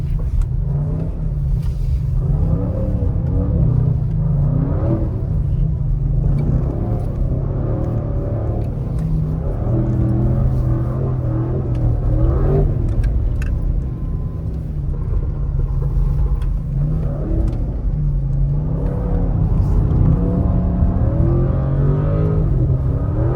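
An Audi RS6 C8 drifting on snow, its engine rumbling loud and steady close by with surging revs that rise and fall throughout, with no talk over it.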